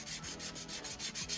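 Sandpaper rubs back and forth over a thick plastic GI Joe action figure part in steady, close, rhythmic strokes of about five per second, with no talking.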